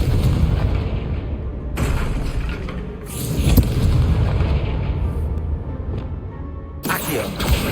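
Confringo fire spell exploding in Hogwarts Legacy on PS5, several booming blasts in a row over game sound, close and loud.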